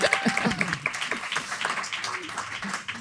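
A group applauding itself during a Catalan awards-show conversation with acting nominees, lively uneven clapping with laughter and chatter mixed in throughout.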